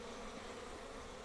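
Honeybees buzz in a steady, soft drone around an open hive during a brood inspection, with a faint, even hum and one brief tick near the end.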